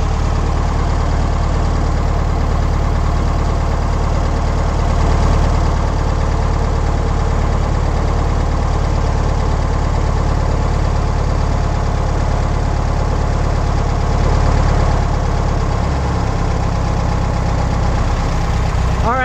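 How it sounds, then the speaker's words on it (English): An air-cooled VW Beetle engine idles steadily after an idle-speed adjustment, a loud, close, even mechanical drone that holds without pause throughout. "The idle is good and solid."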